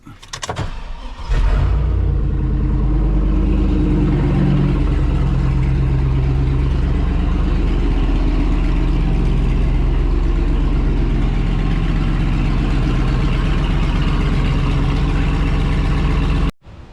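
A loud, rough diesel engine, an LB7 Duramax in a Hummer H2 running with the exhaust removed, idles steadily with a deep rumbling throb, running uninterrupted for a long stretch before cutting off abruptly.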